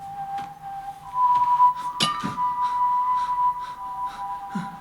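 Whistling from a scene in the animated film Puss in Boots: The Last Wish, a steady tonal melody held near one pitch with a few short clinks and soft noises around it, moderately loud and without talk.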